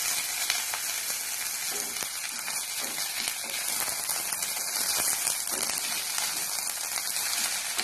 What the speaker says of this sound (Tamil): நல்லா இந்த மாதிரி கிளறி விட்டுக்குங்க.